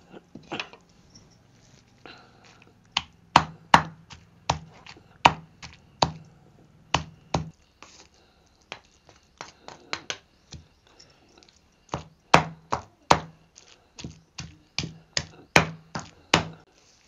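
Raw tomato chutney pounded in a stone mortar over a wood-fired stove, a series of sharp, close knocks in irregular bursts with short pauses between them.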